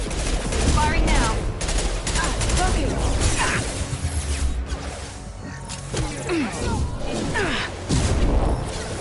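Weapons firing in the Mass Effect video game, a dense, loud fusillade of repeated gunshots and bursts running throughout with crashes mixed in.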